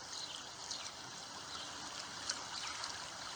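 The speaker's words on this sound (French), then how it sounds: "avec ce cours d'eau qui continue sa course sur les rochers" A forest stream runs steadily over rocks, a soft continuous babble and trickle with faint splashes here and there, fairly quiet and without voices.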